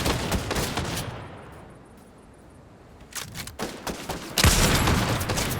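Gunfire in the Fortnite video game: an opening volley of shots, then a quieter lull, then renewed rapid bursts of shooting that grow louder and denser toward the end, with no speech.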